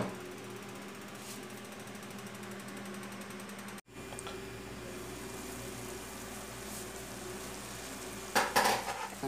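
Spiced flat beans and tomato with onion are stirred in a pan, a steady soft scraping over a constant low cooking hum, with a brief louder clatter near the end.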